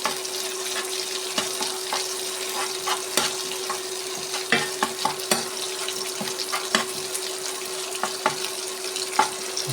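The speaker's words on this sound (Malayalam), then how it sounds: "നന്നായി ഫ്രൈ ചെയ്ത് കൊടുക്കാം." Sardines fry in a spice masala with a steady sizzle, broken by frequent sharp scrapes and taps as they are pressed and turned in the pan. No one speaks.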